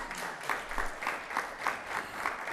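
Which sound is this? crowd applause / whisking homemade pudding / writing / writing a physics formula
crowd applause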